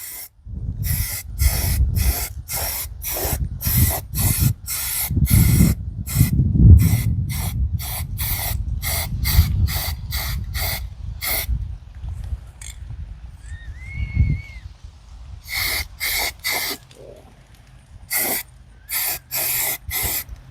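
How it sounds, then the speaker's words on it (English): Spray paint applied in short repeated bursts inside a Mazda NA Miata's cabin, each close, sharp hiss separated by brief pauses, with some rustling and handling noise between passes and a longer gap midway. "3 coats of paint done and over with"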